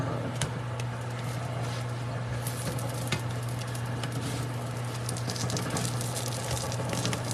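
Pinto bean cakes frying in a pan, a steady, dense sizzle and crackle of hot oil running continuously at moderate loudness with small pops scattered throughout.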